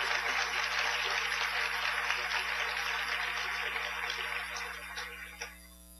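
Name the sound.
audience applause for three inductees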